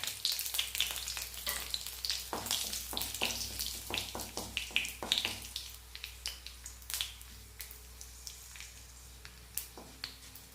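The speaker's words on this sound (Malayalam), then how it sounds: "എണ്ണ ചൂടായി അതിലേക്ക് നമുക്ക് ഈ കടുക് ഇട്ട് കൊടുക്കാം പച്ചമുളക് ഇട്ട് കൊടുക്കാം" Mustard seeds and green chillies hit hot oil for a raw mango curry, crackling and popping close up in rapid bursts over a steady frying hiss that slowly thins out.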